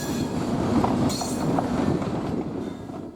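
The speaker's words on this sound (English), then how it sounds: "You might notice how slow the train is moving." An MK50-3 locomotive creeps slowly along poorly maintained track, giving a steady close rumble with faint wheel clatter and a brief metallic squeal, easing off slightly toward the end.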